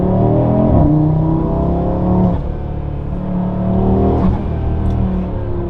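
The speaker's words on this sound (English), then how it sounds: "So with the intake, you definitely hear the blow-off noise a lot" A 2024 Audi RS3 fitted with an ECS Tuning cold air intake accelerates hard, heard from inside the cabin. The engine note climbs in rising pulls, broken by gear shifts, and stays loud and close throughout.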